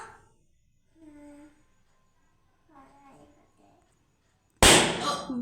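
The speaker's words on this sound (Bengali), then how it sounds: "রেড কালারটা ফাটাবে? আচ্ছা ফাটাও, দেখি কি গিফট পাও।" A red party balloon pops once, loud and sudden, near the end, after quiet stretches of people talking softly.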